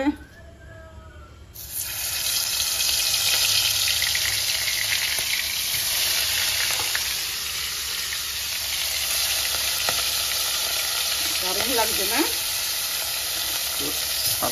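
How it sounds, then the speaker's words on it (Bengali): Shrimp rubbed with salt and turmeric sizzle and fry in a hot pan, a steady loud hiss that holds throughout after a brief quieter start, with occasional stirring and soft voices faint underneath. "চিংড়ি মাছ ভাজা হবে। কড়াইটা গরম হয়ে গেছে।"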